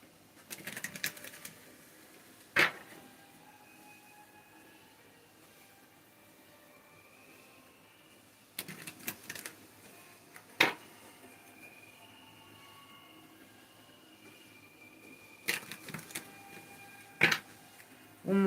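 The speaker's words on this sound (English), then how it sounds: "One more shuffle." A deck of dream cards is shuffled in a few short, crisp riffling bursts spaced several seconds apart, close and fairly faint, with sharp taps between them against a quiet room.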